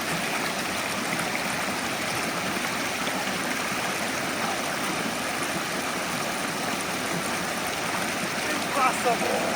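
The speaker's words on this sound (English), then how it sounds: "Someone just told us that this is the impassable river" Rushing river water at a wilderness crossing on the Teton Crest Trail, a broad, steady roar that fills the whole clip without letting up, with a faint splash near the end.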